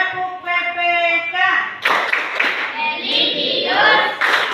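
Children in a classroom perform the PPK clap chant, starting with a sung or chanted phrase and then breaking into rhythmic bursts of clapping mixed with chanting voices, close and lively.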